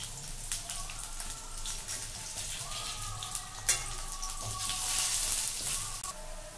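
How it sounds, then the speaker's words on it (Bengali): Potato pieces fry in a pan on a gas stove, giving a steady crackling sizzle with small pops and spatters that swells a little toward the end. "এবার একটু গ্যাসটাকে বাড়িয়ে দিলাম, এই আলুগুলোকে ভাজছি"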